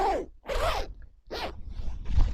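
A PU waterproof zipper on a jacket is run several times in quick, smooth zipping strokes with short pauses between them, close and clear with no talking.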